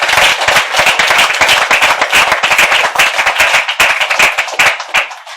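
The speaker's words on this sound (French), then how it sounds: "Est-ce qu'on peut acclamer pour son excellence?" An audience at a pastors' gathering claps loudly for the president of the Democratic Republic of Congo, dense rapid applause close by that fades slightly at the end, with no voices.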